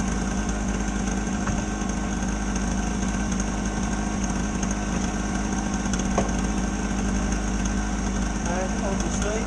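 A small two-stroke generator engine runs steadily and loudly at close range, a constant buzzing drone with no pauses across the whole stretch.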